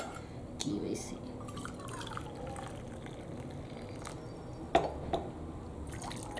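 Hot water is poured into a measuring jar, a steady quiet liquid stream with a few brighter drips and splashes, under a low constant background hiss.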